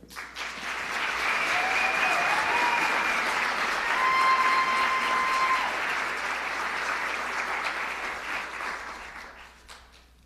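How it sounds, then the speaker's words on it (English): An audience at a Halloween royal ambassador coronation event in Anoka, Minnesota claps steadily, a dense crowd applause that swells in, holds for several seconds and tapers off at the end. "Please join me in thanking them with a round of applause."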